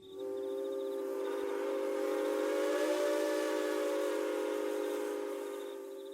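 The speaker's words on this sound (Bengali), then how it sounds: "রোজ রাতে হুইসেল বাজিয়ে ট্রেনটা" Train whistle in a horror audio drama, one long sustained tonal blast with layered harmonics, rising in quickly, holding steady and loud for about five seconds, then fading slightly at the end.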